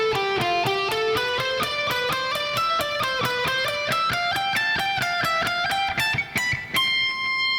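Fast alternate-picked electric guitar run played slowed down, a steady stream of evenly spaced picked notes climbing in pitch, close and clear with no talking.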